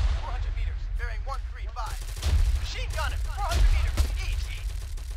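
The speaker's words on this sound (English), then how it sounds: "Enemy fire!" Rapid bursts of gunfire in the military shooter Arma 3 crackle in quick volleys, mixing close and distant shots over several seconds, with a voice shouting between the bursts.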